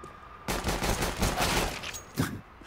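Rapid pistol shots crackle in a Counter-Strike match on the Overpass map at a DreamHack tournament, fairly quiet, with a quick flurry of cracks followed by a final shot.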